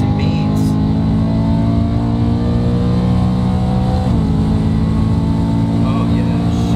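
A supercharged BMW E92 M3 accelerates hard, its loud engine drone climbing steadily in pitch and briefly dipping at a gear change before rising again, with a voice speaking over it.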